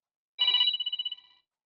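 A single short electronic phone ring, a bright trilling tone that starts loud and pulses quickly as it fades out over about a second, alone in silence.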